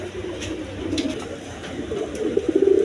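A pair of white Denis pigeons coo close by in soft, throaty bursts that grow louder and more rhythmic toward the end.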